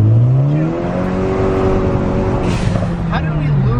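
A Ford Focus ST accelerates hard and loses traction going into second gear uphill, its engine droning loud and close in rising, shifting tones, with people talking over it inside the car.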